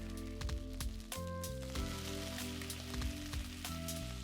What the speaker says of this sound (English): Cover with the lid and simmer for a few minutes until the tenderloin is fully cooked.